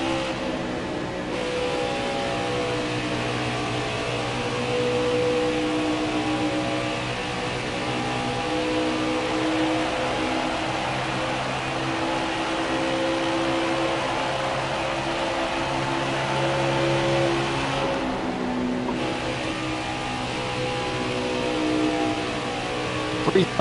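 Race car engines roar continuously in NASCAR Heat 4 at Kansas Speedway, a loud sustained drone with shifting whining pitches as cars run the straightaway, and a faint voice underneath.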